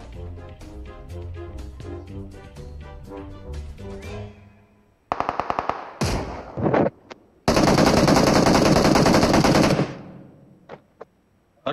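Automatic weapon fire in PUBG on the Erangel map, loud close bursts of rapid shots, a brief pause, then a long sustained burst and a few trailing single shots.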